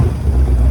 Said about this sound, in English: Boat's running pretty good.